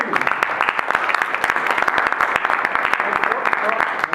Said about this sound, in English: Round of applause for Doug and Mesud.